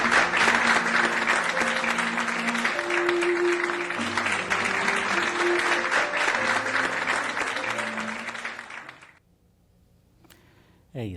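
Health workers at a hospital applaud together in a sustained round of clapping, dense and steady, with some cheering and voices in the crowd, before it suddenly cuts to near silence and a brief sound at the end.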